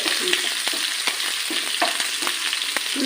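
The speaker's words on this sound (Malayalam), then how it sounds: "ഉള്ളി ഇട്ട് ഉള്ളി മൂപ്പിക്കുന്നതാണ്" Onions fry in hot oil for sambar, a loud close crackling sizzle with repeated scraping strokes of a spoon stirring them in the pan.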